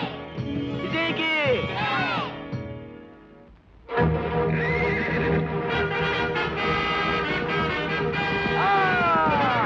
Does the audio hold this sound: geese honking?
no